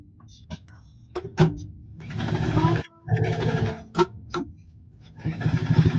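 A sewing machine understitches the pocket seam of a quarter-zip pullover, its motor running in several bursts of steady stitching separated by pauses and small handling clicks, close and moderately loud.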